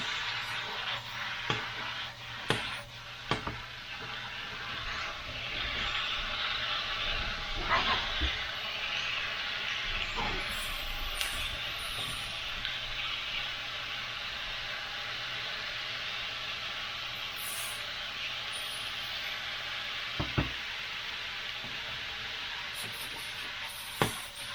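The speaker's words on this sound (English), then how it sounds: "I'm gonna put my peppers and onions and everything back in here. I'll get this all stirred up." Peppers, onions and steak sizzle steadily in a pan, with a constant frying hiss broken by scraping clinks and knocks as the food is stirred, all close by and without talk.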